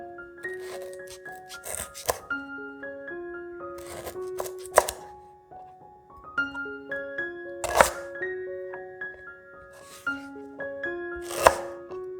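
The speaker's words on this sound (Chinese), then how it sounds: "再将香茅切成小段放入碗里备用。" A knife chops lemongrass into short pieces on a cutting board for a vegetarian rendang and turmeric rice dish, sharp knocks coming in quick bursts separated by pauses, with faint musical tones in the background.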